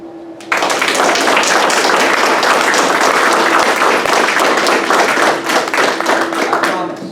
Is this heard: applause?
yes